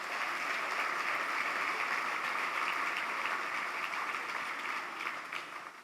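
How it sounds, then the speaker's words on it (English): Steady applause from a large crowd fills the space, dense and even throughout, fading slightly at the very end. "Everyone give them a round of applause."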